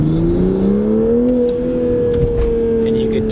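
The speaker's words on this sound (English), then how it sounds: "whenever you rev up and let off, there's some turbo sound" 2021 Toyota Supra fitted with an MST intake, engine revving up in normal mode with a smooth rising drone and turbo whir, loud and close inside the car.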